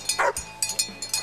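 Hunting dogs used for deer and hog hunting bark and yip in short, rapid bursts, several sharp calls close together over a second or so with outdoor background.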